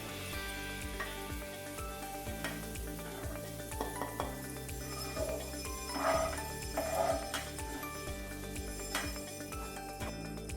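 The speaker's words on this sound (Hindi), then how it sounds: "इसको थोड़ा गोल्डन होने तक हम फ्राई करेंगे।" Potatoes fry in hot oil for Alu Posto, a steady close sizzle and crackle running throughout, with a few brief spattering bursts and a faint background hum, no talking.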